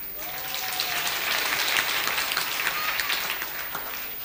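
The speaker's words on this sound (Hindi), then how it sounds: "तालियां तो हम सब बजाते हैं" Steady applause from an audience seated on carpet at a talk, with dense clapping that holds at an even level for several seconds.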